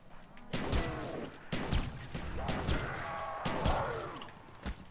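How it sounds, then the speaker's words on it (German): Monkey bombs go off in Call of Duty Black Ops Zombies on the Kino der Toten map: a run of four or five loud, sharp explosive blasts about a second apart, with a chaotic rumble between them. "Mann, ich hasse diese explodierenden Affen."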